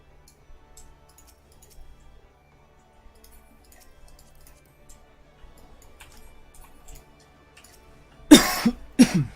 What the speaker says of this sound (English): Oh, I was coughing.